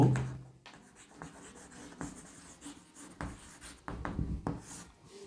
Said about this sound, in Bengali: তাহলে আমরা লিখব